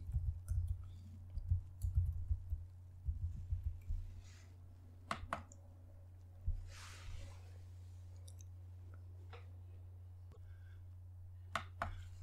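Light, scattered clicks from a computer keyboard as a password is typed on a ROSA Desktop Fresh R11 Xfce system. Quick bursts of keystrokes come early, then thin out to a few isolated taps over a low steady hum.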